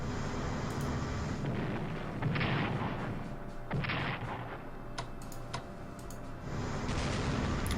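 Battleships in a World War strategy game fire artillery, heavy booms and rumbling blasts arriving in several bursts with clicking sounds between, fairly close and loud, no voices.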